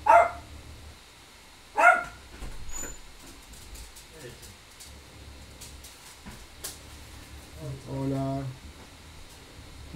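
Dog barking in a home during a Euro Truck Simulator 2 session, with two sharp bursts early on, then a faint yip and whimper amid ongoing room talk and low game engine hum.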